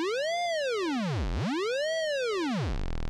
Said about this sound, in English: you can tell the frequency of the oscillator going up and down